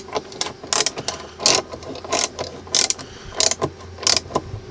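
Ratchet mechanism on a Matco toolbox vise being spun, giving repeated bursts of rapid clicking in an irregular rhythm, close and fairly loud, with no talking.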